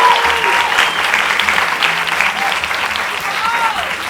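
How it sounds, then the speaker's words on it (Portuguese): An audience bursts into loud, sustained applause at the end of a talk, many hands clapping together with a few whoops and voices mixed in. "Mais palmas"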